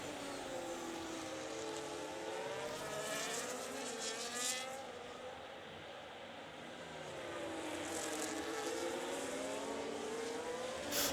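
F1 race cars in an RRF1 racing game league round at Spain, Red Bull among them: continuous high engine whine with rising and falling pitch as cars pass and rev, loud and unbroken, no talk.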